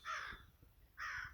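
Two loud, harsh caws from a crow perched up high at an outdoor campsite, separated by a short pause, with no other sounds around them.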